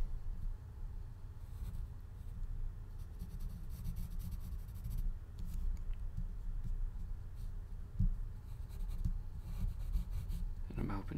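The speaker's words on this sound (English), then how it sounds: "sketching" A pencil sketches on paper in soft, continuous scratchy strokes, faint and close under a low steady hum, with a few sharper taps near the end.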